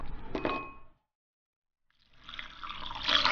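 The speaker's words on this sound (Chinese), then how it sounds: "用水清洗一下。" Dried shrimp are rinsed under running water: a short splash of water, a second of silence, then a longer rising burst of rinsing and splashing, close and fairly faint.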